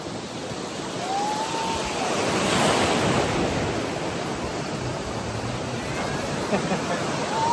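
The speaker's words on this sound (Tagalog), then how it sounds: "Lakas ang alon ngayon." Powerful waves at Boracay break nearby with a rushing roar that swells midway, then settles into the steady wash of churning surf.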